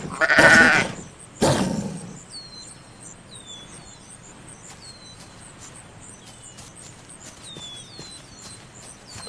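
A sheep bleats in a wolf video game. Two loud bursts of noise come first, then short high chirping calls repeat over a quiet background.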